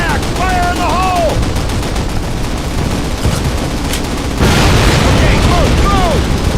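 In a Call of Duty video game, an explosive charge detonates as a louder burst of noise partway through. It rises over constant battle din and whistling effects.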